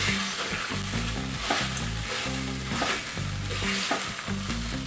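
Sabudana khichdi stirred and cooking in a pan, with steady sizzling and a rhythmic scrape of a spoon against the pan repeating throughout, close and fairly loud with no talk.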